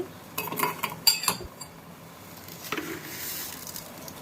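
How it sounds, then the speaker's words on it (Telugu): A metal spoon stirs milk and sugar in a pan for bread pudding, giving light scraping clinks against the metal in a few quick bursts, then softer stirring, with no talking. "మిల్క్ని షుగర్ని మంచిగా కలిపెట్టుకుంటూ కరిగించుకుంటూ ఉండాలి"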